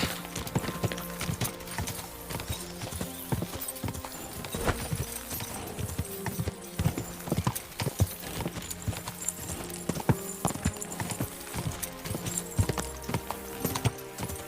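Rapid, steady hoofbeats of a galloping horse in the video game Kingdom Come: Deliverance thunder on without pause, with occasional whinnies and faint shouting voices mixed in.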